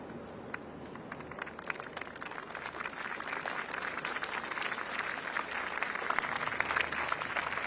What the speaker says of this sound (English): A round of applause now as incoming Prime Minister Lawrence Wong arrives on the Istana grounds with his wife.